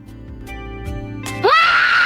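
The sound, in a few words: AI VTuber voice yelling as loud as possible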